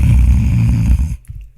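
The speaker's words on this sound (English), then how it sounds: "I was snoring." A man snoring close to the microphone, a loud rough, rumbling breath that cuts off abruptly into near silence.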